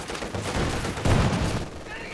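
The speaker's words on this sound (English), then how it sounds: "And head on into this machine gun in the center." Machine gun fire in Company of Heroes 2, dense rattling bursts mixed with heavier battle noise, loud and close with someone talking over the top.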